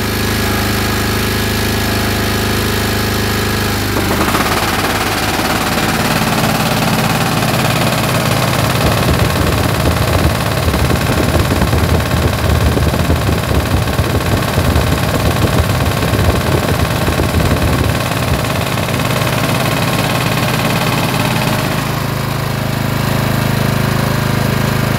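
A Honda HSS snowblower fitted with a DIY impeller paddle kit roars loud and steady, then its tone shifts as the auger engages and the paddles start a rough, rapid knocking that runs for most of the stretch before it settles again.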